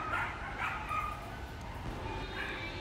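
Malinois dogs yip and bark in short bursts at feeding time, with rice, porridge and chicken necks being served; the barks are moderately close and repeat over a steady background hum.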